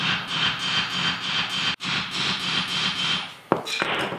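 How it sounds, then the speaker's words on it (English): Hammer striking a press-in wheel bearing on a car, with WD-40 sprayed on first: steady rapid metallic rubbing and tapping noise, then one sharp knock near the end, close and fairly loud with no voices. "you just get a hammer and start hitting it up"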